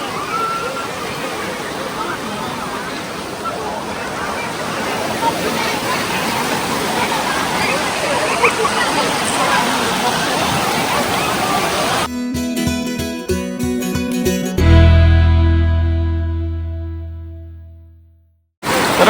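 Bhivpuri waterfall pours in the monsoon with a loud, steady roar of rushing water while children and other visitors chatter nearby, then music cuts in for the last few seconds.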